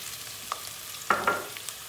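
Potatoes dropped into hot oil in a pan crackle and sizzle, with a couple of sharper pops among a soft steady frying hiss.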